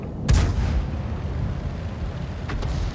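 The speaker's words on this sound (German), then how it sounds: "Eine Arti hat geschossen." A single heavy boom of distant artillery fire in a tank video game near the start, rolling into a rumbling din, with a faint second report near the end.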